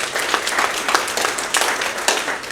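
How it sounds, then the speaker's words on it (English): A meeting room full of senior living community staff claps together in a steady round of applause, dense and even, with no talking over it. "let's give ourselves a big round of applause"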